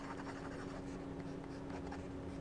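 A pen with a Fude nib writes with Vinta Sodalite Kislap shimmer ink on paper, giving faint, close scratchy strokes in a quiet room.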